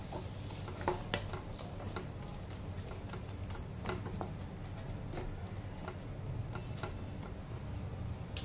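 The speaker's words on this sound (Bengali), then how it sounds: "এটা আমি ভালো করে মিক্স করে নেব।" Quiet soft sizzle of a shrimp head mixture frying in mustard oil, with faint scraping strokes of a spoon stirring the pan at irregular intervals.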